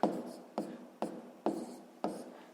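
Pen writing math on paper, five distinct short scratchy strokes in a steady rhythm, close and fairly quiet.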